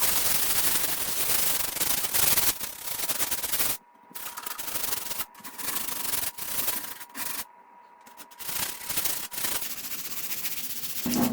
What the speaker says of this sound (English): The nice thing about sanding is it's actually getting a lot of the grime and nasty stuff off